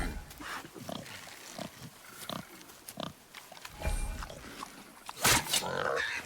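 A wild boar in the God of War video game snorts and grunts in short, irregular bursts, mixed with in-game talk, with a louder squeal-like grunt near the end.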